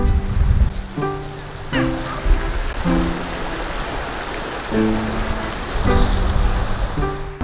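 River water rushing and splashing steadily nearby, a broad continuous wash of sound overlaid by intermittent tonal motor or horn-like notes that recur every second or so.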